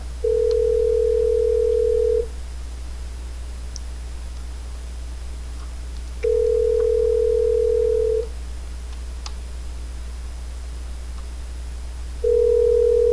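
Telephone line tone sounding in long, steady beeps of about two seconds separated by roughly four-second gaps, clear and close over a faint background hum, with no voices.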